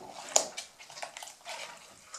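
Hot water being wiped across a restored wooden piece to lift off bone glue filler, giving soft wet splashing and wiping sounds with one sharper clack near the start, close and fairly quiet.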